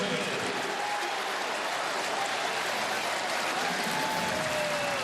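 A jubilant sellout crowd of more than 40,000 fills a brand-new college football stadium at halftime with steady, dense cheering and applause, a broad continuous roar that never lets up.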